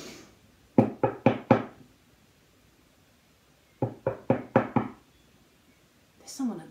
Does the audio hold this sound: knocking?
yes